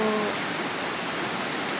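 Heavy morning rain in Hong Kong pours steadily in a dense, hissing wash, close and loud, with no voices.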